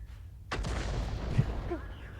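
Tank cannon of an M53/M55 self-propelled gun firing in a video game: a single sharp, heavy blast that rolls into a long rumbling tail, moderately loud with a little faint background chatter.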